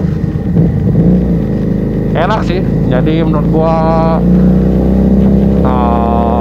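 A Keeway SCR 250V motorcycle fitted with a Mavionic aftermarket exhaust rumbles with a deep, steady engine note close by, running continuously beneath someone talking.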